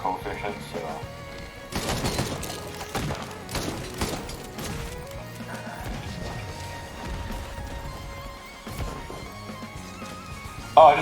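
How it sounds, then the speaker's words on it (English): Rapid bursts of missiles launching in Risk of Rain 2 while playing as Bandit, a dense stream of crashing, thudding impacts and explosions layered over busy game effects, under a talking voice. "I just realized why I have so many missiles going out"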